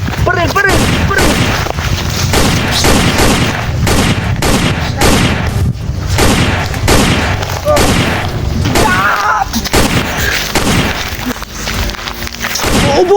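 Dense, continuous gunfire with rapid cracks and booms rattles throughout, loud and close, with shouting voices mixed in.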